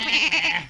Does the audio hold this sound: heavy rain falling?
no